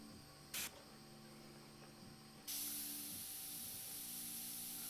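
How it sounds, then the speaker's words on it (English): An airbrush sprays paint for a portrait's beard, giving a steady close hiss. A brief burst comes early, then a louder continuous spray runs from midway to the end over a low background hum. "So I just got some new parts for my airbrush, so it's spraying really like smoothly today."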